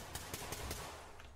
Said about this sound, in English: we can already hear gunfire from within